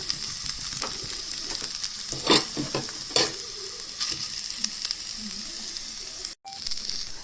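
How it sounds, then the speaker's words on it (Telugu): Grated coconut fries in ghee on low heat with a steady, hissing sizzle, punctuated by a few scraping stirs and clicks of a spoon against the pan. "ఈ గీలో పచ్చివాసన పోయేంత వరకు ఇలా వేయించేసుకోవాలి"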